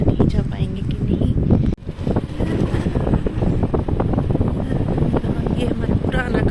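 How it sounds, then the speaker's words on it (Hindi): Strong wind buffets the microphone outdoors on a cold morning, a steady dense roar and rumble running through the whole stretch with one brief dip near the middle; no speech over it. "बाहर बहुत तेज हवा चल रही है और ठंड भी बहुत है"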